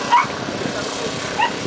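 A happy dog gives two brief, high whimpering yips, one at the start and one near the end, close by over a steady background hum, with a voice speaking faintly around them.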